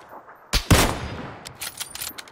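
Beryl assault rifle firing in PUBG, a couple of sharp loud bursts followed by scattered fainter distant shots, with no talk.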